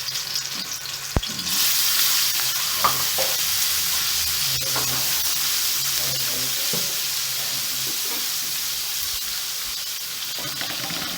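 Ground garlic fries in about half a cup of hot oil for a cauliflower and mutton curry, giving a steady, close sizzle that jumps up as the garlic goes in and carries on with light stirring.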